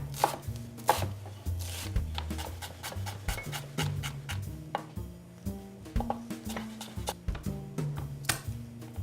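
Vegetables for a potato curry are chopped with a knife on a cutting board, giving close, steady knocks in an irregular rhythm of sharp repeated hits.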